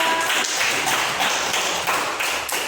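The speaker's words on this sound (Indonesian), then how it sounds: "Oke, kasih aplaus juga." Applause from a school classroom audience, a dense patter of hand claps that comes in rhythmic bursts and stays fairly loud and close for a few seconds.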